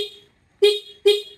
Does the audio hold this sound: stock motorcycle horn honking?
yes